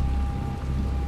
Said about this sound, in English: Look at that rain. Look how good it looks.